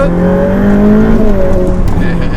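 A Ferrari F8 Tributo V8 engine roars loudly and steadily, its pitch climbing as the car accelerates hard, with a faint whine riding on top.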